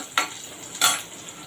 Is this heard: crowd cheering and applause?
no